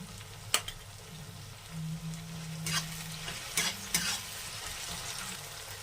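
Onions, tomatoes and garlic paste frying in a pan for chickpea ghugni with goat fat, a soft continuous sizzle broken by several sharp scraping stirs of a spoon against the pan, close and moderately quiet.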